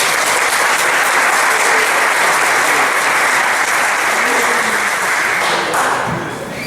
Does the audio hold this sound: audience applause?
yes